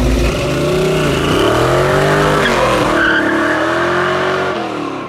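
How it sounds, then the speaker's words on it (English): Race cars, including a GT2 RS and a Cuda, roar past at full throttle on an airfield used as a drag strip, engines revving and tires squealing in a loud, continuous rush with shifting engine pitch. "go ahead and use the airstrip as a runway for cars"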